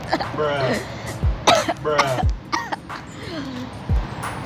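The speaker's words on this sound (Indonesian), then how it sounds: "Batuk." A single cough with a throat-clearing quality, followed by a few short bursts of talking nearby.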